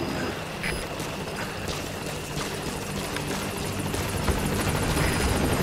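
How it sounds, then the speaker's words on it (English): A support helicopter arrives in the video game Metal Gear Solid V: The Phantom Pain, its rotor giving a steady, loud, close whirring roar with a gritty rushing texture that continues throughout. "Support helicopter has arrived."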